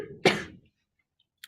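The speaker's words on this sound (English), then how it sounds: "Sorry, I'm coughing." A single abrupt cough bursts out close by during a math lesson on three-dimensional figures, then quickly fades to quiet.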